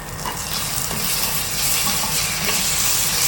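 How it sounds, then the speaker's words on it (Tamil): Ginger garlic paste sautéing in a pan with green chillies in a home kitchen, a dense, close sizzle with continuous scraping stirs and no talking over it. "ஸோ இப்போ வதக் வதக் வதக். இஞ்சி பூண்டு பேஸ்ட் கொஞ்சம் போட்டுக்கலாம்."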